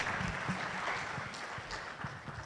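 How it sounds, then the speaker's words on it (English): A conference audience applauds at a closing ceremony, giving a steady wash of many hands clapping throughout, loud and continuous in a large hall. "Let's give them another round of applause"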